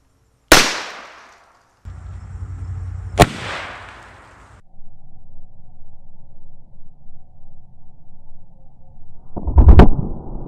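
A handgun fires through a pillow used as a makeshift silencer: one sharp report, then a second shot a couple of seconds later, then rustling and a final loud thud, close and with no talking.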